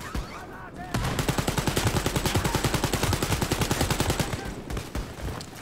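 A submachine gun in Wolfenstein: Youngblood fires a long, rapid burst of evenly spaced shots, loud and close, lasting several seconds before stopping.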